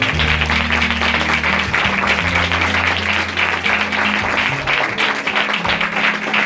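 A church congregation claps together in sustained, dense applause that stays loud and even throughout, with low held tones droning steadily underneath.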